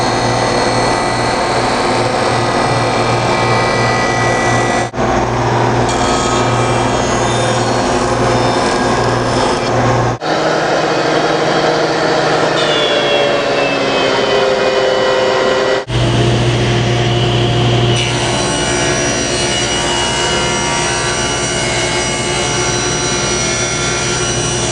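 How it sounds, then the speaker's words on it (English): Loud, continuous power-tool machining of a 24-inch-long, 3/4-inch-thick ash board being surfaced on four sides, with sustained whirring and rasping in several passes separated by brief pauses. "First thing I need to do is I need to get this surfaced 4 sides."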